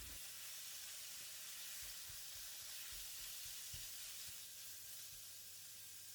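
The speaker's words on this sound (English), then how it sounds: "Stir and break the minced pork to evenly spread them around the pan." Minced pork stir-frying in a pan with light soy sauce for fried kuey teow, a steady bright sizzle and hiss throughout with soft low scraping and knocks from stirring, close and without voices.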